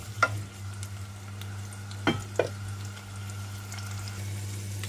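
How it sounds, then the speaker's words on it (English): An onion cooks over high heat in a pan for chickpea pilau rice, giving a soft, steady sizzle broken by a few sharp clicks and scrapes of stirring, with a low hum underneath. "I'm going to add an onion. So we're just going to cook this on a high heat"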